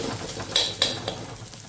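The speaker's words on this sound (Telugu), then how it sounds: "ఇప్పుడు ఈ వెల్లుల్లి వేసిన తర్వాత ఇంకొక నిమిషం ఫ్రై చేసుకోవాలి" About a dozen unpeeled garlic cloves, pounded coarse, fry in a pan for a Rayalaseema-style village stir-fry, with two sharp spatula clinks against the metal over a low, steady sizzle and scraping.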